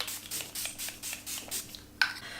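Several quick, soft hissing bursts of makeup setting spray in a steady rhythm, close by and fairly quiet, ending with a small sharp click.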